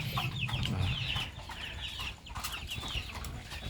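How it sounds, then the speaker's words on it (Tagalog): Brahma hens cluck and chatter while being fed in the afternoon, a close, busy run of overlapping clucks and short calls over a low rustling background, no talk. "Ito po ang ating mga Brahma hens na 5."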